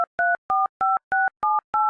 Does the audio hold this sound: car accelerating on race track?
no